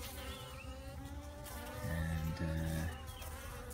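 Honey bees buzz around a hive entrance, a steady hum with louder, closer wingbeat drones swelling near the middle as a forager returns carrying full pollen sacs.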